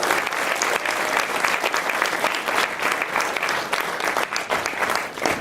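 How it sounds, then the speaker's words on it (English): An event audience gives a sustained round of applause for the Stony Brook Marching Band, dense, even clapping filling the room without a break. "Let's give them another big round of applause"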